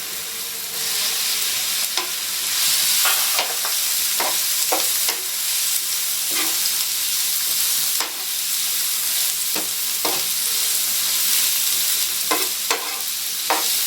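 Onion for veg spring rolls fries with a steady sizzle in a pan, broken by repeated sharp scrapes and clacks of stirring at irregular intervals, close and fairly loud with no voices.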